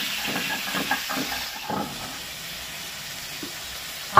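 Soaked chickpeas and a large chopped tomato fry together in a pan, giving a steady, even sizzling hiss that runs unbroken throughout with no talking.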